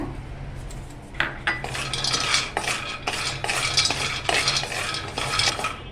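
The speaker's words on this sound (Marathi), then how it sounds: "आता आपण एक कढई गरम करून घेतलेली आहे त्यात आपण प्रथम ना बदाम भाजून घेऊया" Almonds roast in a hot kadhai, their dry rattle and scrape rising in steady bursts as a spoon stirs and clinks against the metal.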